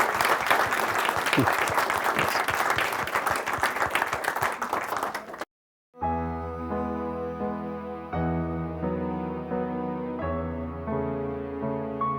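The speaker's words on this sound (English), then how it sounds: "let's give him another round of applause" An audience at a local history lecture on East Iowa City applauds, a dense, steady round of clapping lasting about five seconds that cuts off into brief silence, followed by music.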